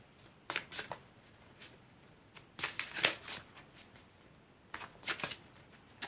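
Oracle cards drawn and shuffled by hand, soft papery slides and flicks in scattered short bursts, close and quiet, with no talking.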